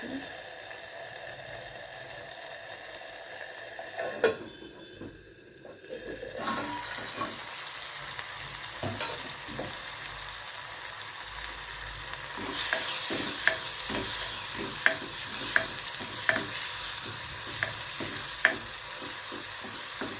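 Tomatoes sautéing in a pan for an anchovy fish curry, a continuous sizzle with repeated spoon scrapes and taps as they are mashed, steady and close, the tapping growing more regular toward the end.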